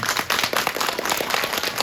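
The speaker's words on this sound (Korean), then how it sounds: "또 한 번 박수 부탁드립니다" An audience in a cinema hall claps at the close of a film screening talk with the actors, a dense, steady burst of many hands without pause.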